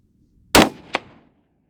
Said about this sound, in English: that's from the bullet going through the can